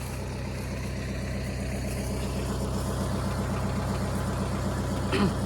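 A tractor engine idles steadily at the end of a farm workday, a low, even rumble with regular pulsing that continues throughout, with a brief small knock near the end.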